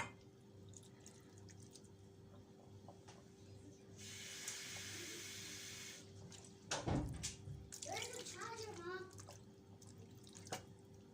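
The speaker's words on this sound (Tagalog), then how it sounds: "Tapos, lagay natin ng tubig guys." Water runs from a tap into a cooking pot for a Filipino fish dish with salt and calamansi, a steady stream for a couple of seconds followed by clanks and splashing, with faint background noise and a voice.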